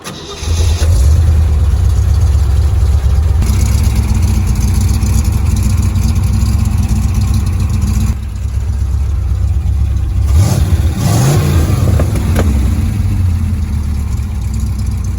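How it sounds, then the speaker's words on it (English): A 1953 Jeep CJ3B fitted with a mid-to-late 1970s GM 350 small-block Chevy V8 runs loudly up close, a deep steady rumble with a brief change in tone around the middle and a few rising revs later on. "it has a mid to late 70s GM 350 small block Chevy"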